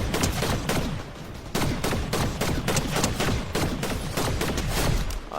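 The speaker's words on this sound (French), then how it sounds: "Là-bas il y a des tirs." Sustained gunfire in Fortnite battle royale, a steady stream of rapid shots and bursts running the whole time, loud and continuous with no talk over it.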